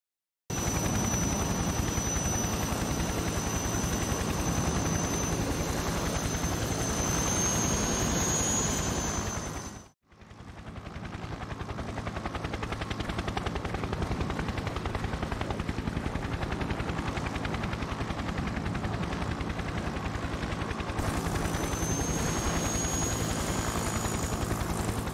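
Helicopter flight in the Conflict: Desert Storm video game, a steady loud broadband rotor and engine drone that holds for about ten seconds, dips to a brief near-silence, then resumes just as loud for the rest, with no talk.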